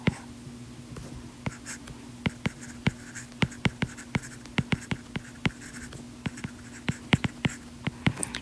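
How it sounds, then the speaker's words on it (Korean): A pen writing in black ink on a printed worksheet, quick scratchy strokes and taps in an irregular rhythm, close and clear over a faint steady hum, with no talking. "검은색으로 써볼게요."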